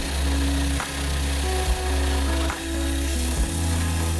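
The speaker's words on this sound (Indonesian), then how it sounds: "Di sini kita menggunakan gergaji berukuran 12 in." A 12-inch saw cuts a small block of stone for a carved motif, with water mixed with diesel used during the cut. It gives a loud, steady grinding drone broken by two brief pauses where the blade pitch drops.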